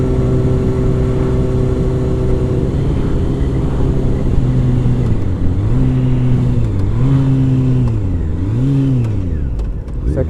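A motorcycle engine revving hard as the rider accelerates for a wheelie, a loud close droning roar whose pitch climbs and dips in several swells over a steady rumble.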